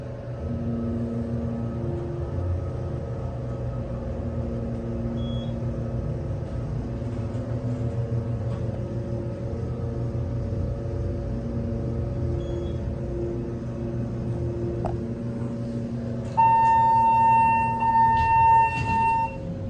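A hydraulic elevator by Excel, formerly MK, at a Neiman Marcus store hums with a steady low motor drone throughout, with faint clicks and a brief high chime tone near the end.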